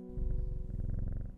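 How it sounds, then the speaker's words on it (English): A cat in Strange Horticulture purrs steadily and close, a soft rhythmic rumble with a regular pulse over a faint tonal background hum. "but we have a cat."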